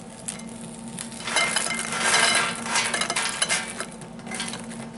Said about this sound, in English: We dump them in a pan.